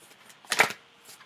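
A deck of playing cards being shuffled by hand during an online reading session, a short quiet riffle of crisp papery flutters rising and falling, heard alone and close.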